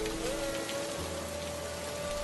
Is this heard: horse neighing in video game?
no